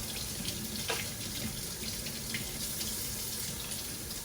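Cold tap water pours steadily into a sink, a constant hiss and splash with small irregular splashes as brown-sugar-cured salmon is rinsed under it.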